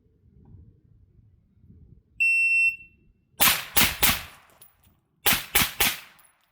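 An electronic shot-timer beep sounds, then a handgun fires three quick rounds from low ready in a shooting drill. After a short pause, three more rapid shots follow from kneeling, all loud and close.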